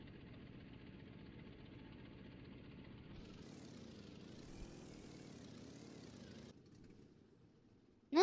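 Propeller airplane engine in Farming Simulator 2011, a steady droning hum that rises in pitch partway through as the aircraft flies, then drops to a quieter idle before a sudden loud burst at the very end.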